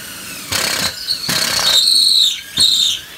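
A drill bit bores into wood through a Kreg pocket hole jig and squeals loudly at full depth. A high, piercing whine rises and falls over the motor's whir in several close bursts.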